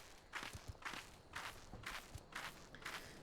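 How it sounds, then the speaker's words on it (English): Footsteps of a character walking in the video game Final Fantasy XIV, crossing from Southern Thanalan toward Idyllshire: a steady rhythm of about six soft, crisp steps, close and moderately quiet, with no talk over them. "I don't know that I ever really paid attention to like my footsteps."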